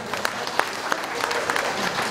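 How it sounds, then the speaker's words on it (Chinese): A crowd at a furniture store's 20th anniversary celebration applauds, a dense patter of claps with sharper individual hits, steady and fairly close for about two seconds. "来，掌声鼓励一下"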